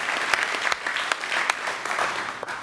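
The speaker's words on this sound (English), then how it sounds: "Give them all a round of applause." Audience at a bass guitar camp applauds the bass players, sustained clapping from a crowd with sharp individual claps standing out, steady and moderately loud throughout.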